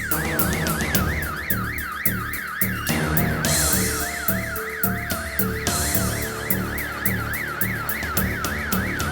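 An ambulance siren wails loud and close in a rapid, repeating up-and-down pattern, with no talk over it.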